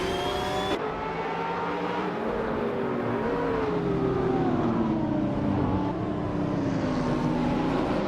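Racing cars, including a 2020 Apollo Intensa Emozione, tearing around Dijon-Prenois in a video game race: a loud, continuous engine roar with whining pitch that climbs and dips as the cars accelerate and shift, with no talk.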